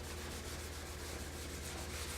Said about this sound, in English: So as I'm just picking it up with my steel wool